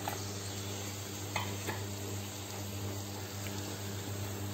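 Lamb liver frying with garlic in a pan gives a steady, moderately quiet sizzle and hiss with a constant low hum under it and a couple of soft clinks of stirring.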